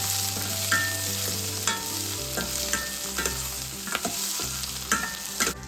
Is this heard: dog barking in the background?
no